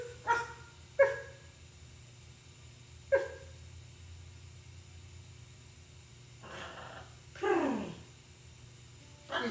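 A pet parrot at the Nauti Parrot in Fort Myers, Florida imitates a dog, giving five separate sharp bark-like calls spaced over several seconds. The last bark is longer and hoarser, and a low steady hum runs underneath.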